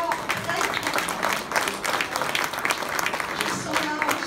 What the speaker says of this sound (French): L'indispensable Secours Populaire, qu'on peut applaudir très fort, très fort.